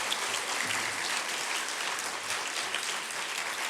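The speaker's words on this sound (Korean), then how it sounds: "우리 수강 직원들에게 박수로 한번 격려합시다." A church congregation in Daegu applauds, a dense, even patter of many hands clapping at once that holds steady throughout with no talk over it.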